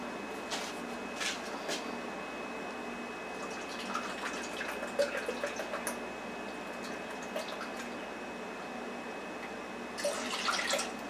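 A cup of milk is poured into a pot already holding water for apple wood bacon mashed potatoes, a soft close trickle with scattered drips and light kitchen clatter.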